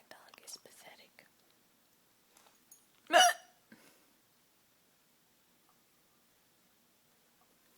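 One strong, close hiccup from an adult stands out in a quiet room, surrounded by faint breathy whispers and small mouth noises before and after.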